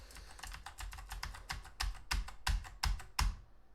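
Rapid clattering keystrokes on a computer keyboard, irregular bursts that grow louder and more forceful toward the end before stopping.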